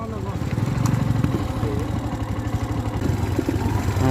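A 12 to 13 year old motorcycle engine labours on a rough offroad track between Beltari and Sandhikharka, its low, throbbing putter sounding near and loud and rising and falling unevenly throughout.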